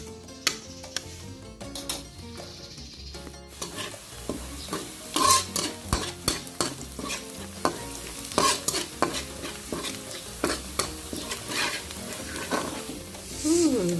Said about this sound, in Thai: เจียไฟอ่อนๆก่อนให้กระเทียมนเหลือง